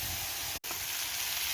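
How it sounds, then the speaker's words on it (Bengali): Spice masala with turmeric and chili being cooked down for a pointed gourd dish, a brief dense sizzle broken by a split-second dropout. "এখন এই মশলাটা ভালোভাবে কষাবো"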